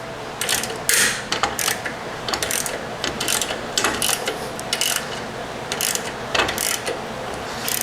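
A tool ratchets in quick bursts of clicks to loosen a threaded part screwed into the frame of a 2022 Harley-Davidson Heritage Classic 114 near the floorboard mount, with short pauses between runs. It is close and clear, with no talking.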